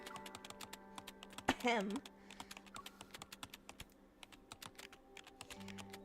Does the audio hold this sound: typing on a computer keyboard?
yes